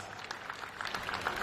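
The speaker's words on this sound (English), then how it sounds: "one final round of applause for your OKN seniors" A crowd at a Champions of the Future Academy karting event gives a brief, soft round of applause for the OKN senior drivers, a diffuse patter of clapping heard from a distance.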